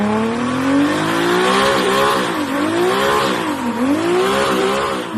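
A loud diesel engine revs up and down repeatedly, sounding somewhat like a Toyota 2JZ, its pitch rising and dipping in sweeping waves, close by and continuous.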